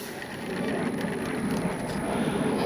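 An E-flite Commander RC plane passing overhead, its electric motor a steady broadband whine that swells after the first half second and then holds loud and close.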